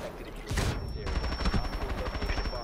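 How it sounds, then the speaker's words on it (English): A burst of rapid gunfire in the video game Rainbow Six Siege crackles loudly, then continues as a steady automatic rattle with a high electronic tone running through it. "Where is all this goddamn gunshots coming from, man?"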